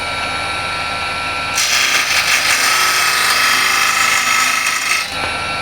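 Hand scraper pulled across wooden end grain, one sustained bright scraping stroke lasting several seconds, close and loud, framed by quiet moments before and after.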